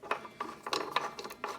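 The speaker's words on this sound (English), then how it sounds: "This is reverse thread. So righty-loosey." Ratcheting clicks as a reverse-thread blade bolt is loosened on a Ridgid chop saw, several short bursts of close mechanical clicking separated by brief pauses, with no talking.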